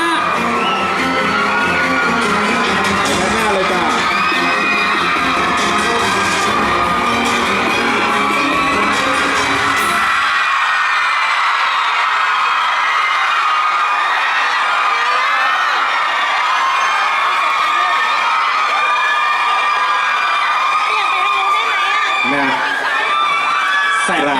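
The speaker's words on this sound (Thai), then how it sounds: "ขอเสียงกรี๊ดแก่นักแสดงอีก 3 ท่านด้วยครับผม" Thai fans scream loudly for actors at a Channel 3 calendar autograph-signing event, a dense, sustained wall of high-pitched shrieks and cheers that shifts partway through, close and overwhelming.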